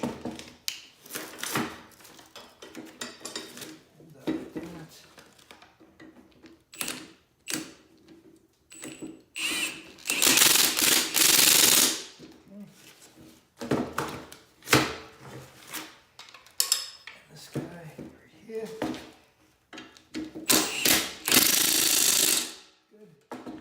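An impact gun drives the spindle bolts down on a 1968 Impala disc brake assembly. It fires in several short, loud rattling bursts with pauses between them, and there is some handling noise between the bursts.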